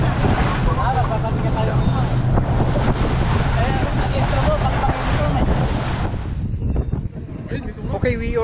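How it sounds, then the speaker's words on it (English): Wind buffets a boat on the open ocean while searching for dolphins, a loud continuous roar of gusts and water rush with speech-like murmurs mixed in, easing slightly toward the end. "The weather is windy."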